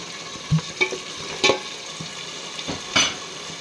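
Chopped tomato and spices are stirred in a pan for pulao. A utensil scrapes and taps the pan in a few scattered strokes over a soft, steady sizzle.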